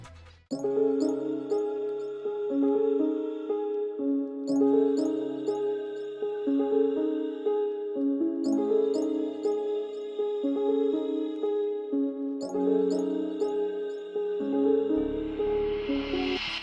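A looping hip hop beat of bell-like, tinkling keys repeating the same phrase several times, swelling into a rush of noise at the end.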